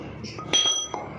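A hammer drives a pipe against a Pride car's axle bushing, giving two sharp metallic clinks about half a second apart, the first ringing briefly, heard close in a quiet workshop.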